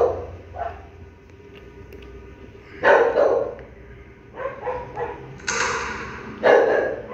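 A dog in the video game Undertale barks in short, separate yaps with gaps between them, heard over low game background sounds.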